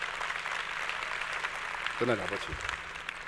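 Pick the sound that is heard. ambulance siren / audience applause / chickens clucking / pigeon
audience applause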